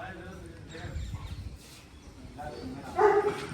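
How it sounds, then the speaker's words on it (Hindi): A golden retriever gives a few short barks and yips amid people talking, with a sharper, louder bark near the end. "एक जना पीछे चले जाओ, वो नहीं तो विस्की भौंकता ही रहेगा।"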